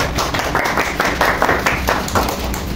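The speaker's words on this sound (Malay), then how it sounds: "Berikan tepukan." An audience of students claps in a classroom during a micro-teaching session on health education, producing steady, rhythmic group clapping at moderate loudness with little talk.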